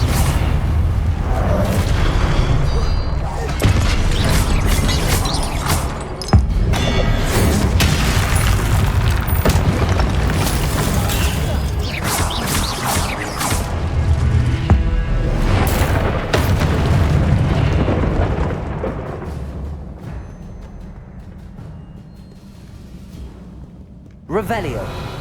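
Confringo fire-spell explosions in Hogwarts Legacy: repeated heavy booms and bursts with whooshes in dense, loud combat, a voice calling out between blasts.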